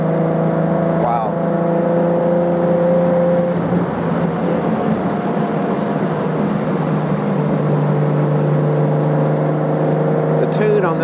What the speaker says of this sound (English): The tune on this little motor is really impressive, and the exhaust. We're here motoring along in first